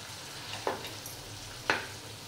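Brinjal and potato vegetable cooking in a pan gives a faint, steady sizzle. Two brief scraping strokes come as the mixture is flipped, quiet and close.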